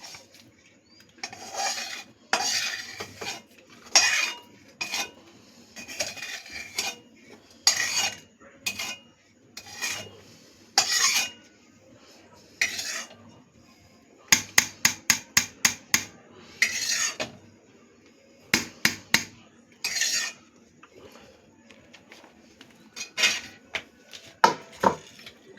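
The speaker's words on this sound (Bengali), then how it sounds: "এই পেঁয়াজটা দিয়েও ভালো করে মিশিয়ে নেব" A utensil scraping and mashing fried onion into a potato filling for aloo paratha, in repeated rhythmic bursts of metallic rubbing and clinking against the bowl, close and with no talk.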